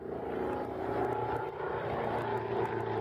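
An airplane flies at an airshow, a steady droning engine roar that stays loud and constant throughout with no voices.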